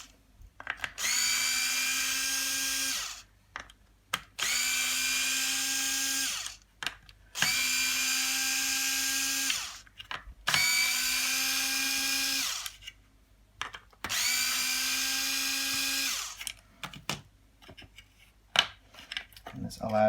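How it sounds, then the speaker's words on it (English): A power driver unscrewing star-head screws on a Stokke Xplory stroller rear wheel, five whining bursts of about two seconds each, close and clear, separated by small clicks and handling sounds. "you just want to unscrew these 6 screws"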